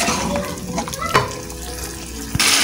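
Chicken pieces browning in oil and ghee in a handi for a restaurant-style chicken curry give a steady, close sizzle and crackle, with a spatula knock near the middle and a brief louder burst at the end.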